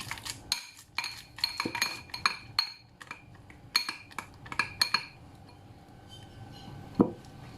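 Ripe bananas get mashed in a bowl, with quick bursts of metal cutlery clinking and scraping against the bowl, then quieter stretches and a final soft knock.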